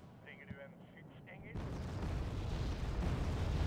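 In the war game Wargame: AirLand Battle, aircraft-dropped bombs burst into a sudden loud rumbling explosion that swells and rolls on for a couple of seconds after a quieter stretch with faint game sounds.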